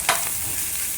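Masala chicken frying on a tawa, a close steady sizzle of hot oil with a quick stirring scrape near the start, continuous and fairly loud.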